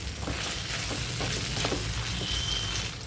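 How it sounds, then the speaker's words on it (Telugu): Ivy gourd (dondakaya) pieces fry uncovered in hot oil, a steady close sizzle with occasional crackles and faint stirring, no one speaking. "ఇప్పుడు మూత పెట్టకుండా టూ మినిట్స్ ఫ్రై చేసుకోవాలి"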